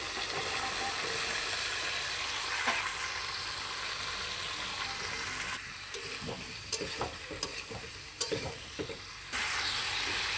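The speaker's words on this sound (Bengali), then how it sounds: "মশলাটা কষানো হয়ে গেছে, আমি শিম আলু দিয়ে কষিয়ে নেব" Flat beans and potatoes being stirred and fried with spices in a hot pan, a steady close sizzle throughout with scraping stirs that grow busier and clattery in the later part, no talk.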